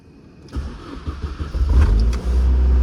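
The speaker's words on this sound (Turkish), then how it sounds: "Şöyle bir defa daha marşı deneyelim." An Opel Tigra whose starter motor had faults cranks briefly, then the engine catches and settles into a loud, close idle with a low rumbling roar.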